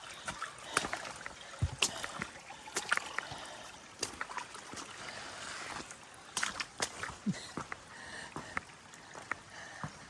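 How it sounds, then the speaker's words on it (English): Rainwater runs and trickles over wooden trail boards during a wet Appalachian Trail hike, with irregular close splashes and sloshing sounds over a steady watery wash. "Water's running over the boards too."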